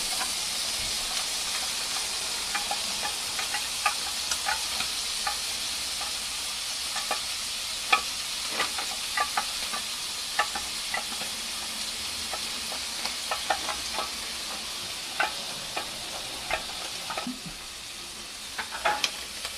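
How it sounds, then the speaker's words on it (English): Steady sizzling of food frying in a pan, a constant hiss with scattered crackles and pops, close and fairly loud, with no voices. "Oh, listen to that sizzle."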